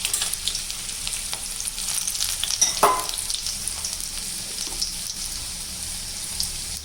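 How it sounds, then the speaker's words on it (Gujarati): A spoonful of cumin seeds, along with garlic and green chilli, crackles and sizzles in hot oil, a steady soft frying hiss with small pops and one brief sharper spatter, with no voices. "જીરું સરસ તતડી ગયું છે"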